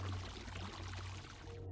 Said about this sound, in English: The water noise.